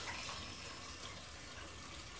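Crushed red wine grape juice pours slowly into a wine press, making a steady, continuous splashing gush of liquid with no voices.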